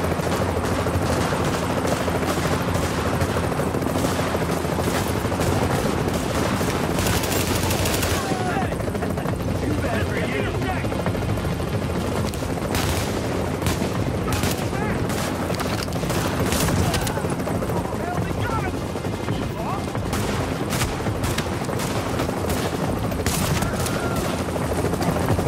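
Sustained automatic gunfire and bursts of shots in a firefight in The Division at Madison Field Hospital, loud and dense throughout with a helicopter-like drone underneath.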